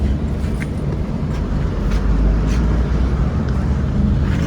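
An APSRTC bus heading from Kukatpally toward MGBS on a Hyderabad to Kadapa run rumbles from inside, with a loud, steady, low engine and road drone throughout.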